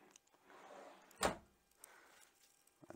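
A drawer in a 2023 Coachman Acadia 575 caravan slides open with a soft rumble, then shuts with one sharp knock, close by, followed by a quieter slide.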